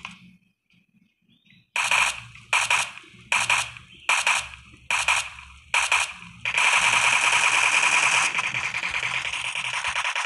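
Suppressed automatic rifle fire in PUBG Mobile, six short bursts in a steady rhythm followed by a long sustained volley, loud and close with no talk.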